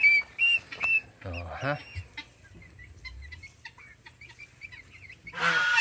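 Backyard geese, turkeys and hybrid chickens roam loose on grass, giving scattered clucks and a short honking call at moderate distance, with quiet gaps between them.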